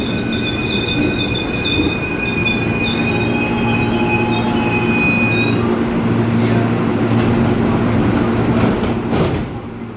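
An empty coal freight train hauled by a locomotive rumbles past on track 1 at Depok station with steady heavy noise, high metallic wheel squeals ringing over it, and a louder clatter near the end.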